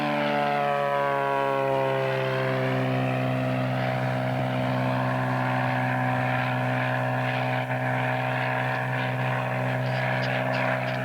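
Small aircraft engine roaring at full power during takeoff in Alaska, a loud steady propeller drone with rising harmonic tones that holds throughout.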